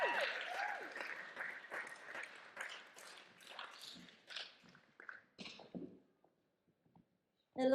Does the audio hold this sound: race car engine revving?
no